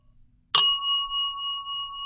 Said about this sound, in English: this is interesting because the bell's going quieter and quieter